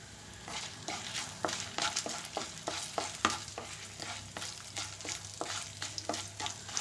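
Dried red chillies go into hot oil for a tomato chutney, and a steady sizzle runs under quick repeated scraping stirs that come in a fairly regular rhythm close by.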